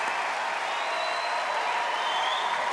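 Audience applause for a dog act on a televised talent show, a dense, steady wash of clapping filling the hall at constant loudness without pause.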